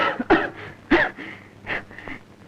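A person coughs several times in short, harsh bursts, two sharper coughs followed by softer throaty ones, close and fairly quiet with no talking.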